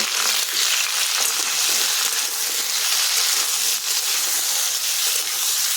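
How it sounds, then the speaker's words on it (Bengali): Flat beans (shim) frying in a pan with turmeric and salt, giving a loud, continuous close sizzle that holds steady throughout, with no voices. "শিমটা এখন ভেজে নেব"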